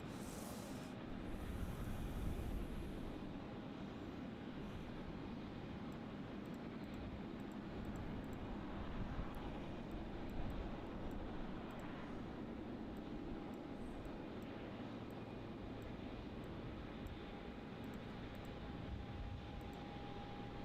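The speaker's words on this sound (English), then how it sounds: "coming in after that, it's going to be a Qantas 330 from Perth" Qantas Airbus A330 from Perth on approach to Melbourne Airport, a faint, distant, steady jet rumble with a thin engine whine running the whole time.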